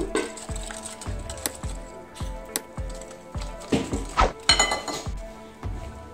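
Coconut milk and powdered sugar whisked together in a bowl, with repeated regular clinks and scrapes of a utensil against the bowl, fairly close, plus a few louder knocks; no talking.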